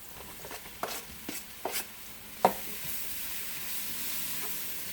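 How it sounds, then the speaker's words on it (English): Mushrooms go into hot extra virgin olive oil with a few soft thuds and crackles. After that comes a quiet, steady sizzle, close up and with no voices. "We're going to add our mushrooms."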